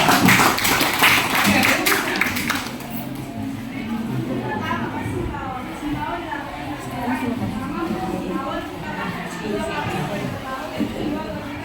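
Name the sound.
applause in a classroom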